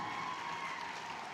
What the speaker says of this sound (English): You're supposed to applaud on that.